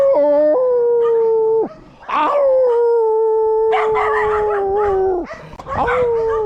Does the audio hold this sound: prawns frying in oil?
no